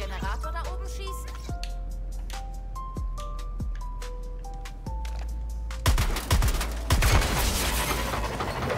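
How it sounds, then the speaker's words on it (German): Gunfire in the Suicide Squad: Kill The Justice League game, aimed at a generator overhead: a string of sharp single shots spaced about a second apart, then a dense, louder burst of rapid fire near the end, with faint talk. "Vielleicht sollten wir auf den Generator da oben schießen."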